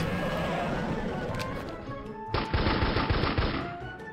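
Fast, loud bursts of automatic gunfire in CastleMiner Z, starting abruptly partway through after a stretch of background game noise.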